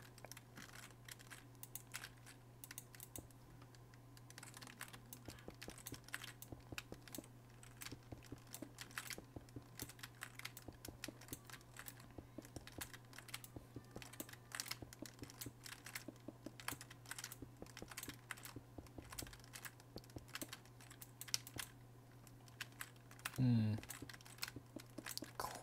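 A computer keyboard is typed on rapidly for a long stretch, with dense irregular clicks over a constant low electrical hum and a little faint background sound.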